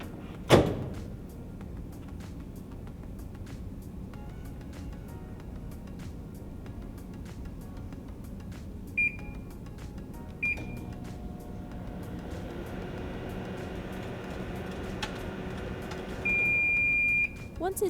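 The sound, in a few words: microwave oven heating bacon, door and beeps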